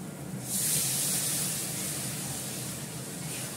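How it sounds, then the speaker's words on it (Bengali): Water poured into a hot cooking pan, a steady loud hiss of steam and spray that swells at the start and holds evenly for a few seconds, with no voices. "এবার জল দেবো।"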